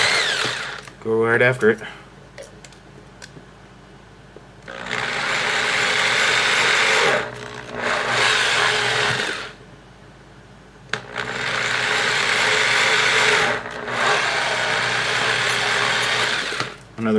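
A power drill bores a hole through a plastic NES controller with a sharp new bit, whirring loudly in several long bursts separated by short pauses, with brief talk at the start.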